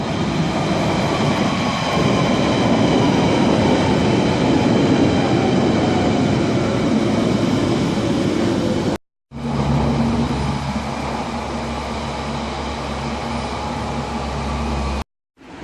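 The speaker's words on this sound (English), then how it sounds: "Let's wait for the train to turn up, eh?" A train pulls into Loughton station with a loud, steady rumble and rolling rail noise that falls in pitch as it slows. There is a brief cut midway, and then the carriages grind on, close by.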